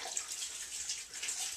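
A jug of water spread slowly over laundry inside a high-efficiency washer gives a close, steady pouring splash with light trickles and small drips, alone and fairly quiet.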